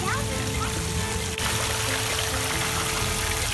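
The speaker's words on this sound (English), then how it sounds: "Check out the spectacular attention to detail with the water fountain." A decorative water fountain at the South of the Border roadside attraction flows with a steady, close splashing trickle, and people talk over it, including a voice.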